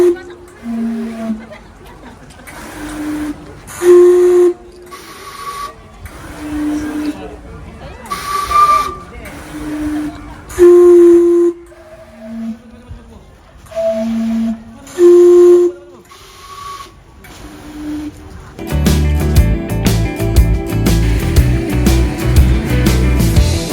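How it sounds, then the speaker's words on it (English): A steam clock gifted by Canada in 1994 whistles its tune in Niseko, sounding a string of loud, sustained tonal notes in a stepping melody, each with a hissy edge, before a broad rush of steam takes over at the end; voices can be heard nearby. "This is a steam clock that was gifted by Canada in 1994."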